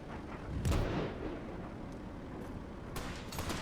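Grenade blast in the video game Metal Garden, a loud booming burst with a rumbling tail near the start, followed by a second sharp crack later amid continuous low battle noise.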